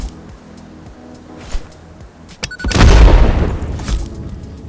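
Explosion in the factory-building game Satisfactory, set off while laying out a new base floor: a sudden deep boom that swells into a loud, rumbling roar and trails off over a couple of seconds after small pops.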